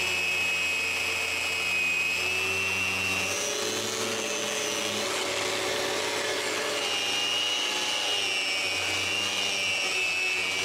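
A power sander runs on a wooden patio floor, its steady motor whine droning loud and close the whole time, with a gritty rasp of wood being abraded and a slight shift in pitch midway.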